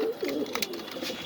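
A breeding pair of pigeons, a cock and a hen, coo nearby in soft, throaty repeated calls over a second or so, with no voices.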